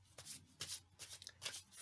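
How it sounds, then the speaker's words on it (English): Tarot cards being shuffled by hand, several quick papery riffling bursts in an uneven rhythm, close and fairly soft, with no voices. "One more shuffle"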